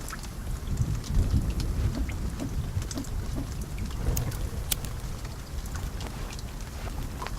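Rain pouring down in the forest survival game The Forest, with a low rumble of thunder underneath, a steady rushing wash with scattered sharper drops and gusts throughout, no talk.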